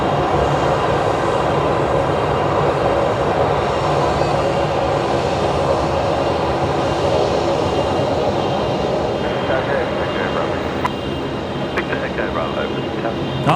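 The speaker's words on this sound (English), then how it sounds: "I have got that Link Airways Saab coming in here." A Link Airways Saab aircraft coming in at Brisbane Airport, heard as a loud, steady, continuous engine roar that holds evenly throughout.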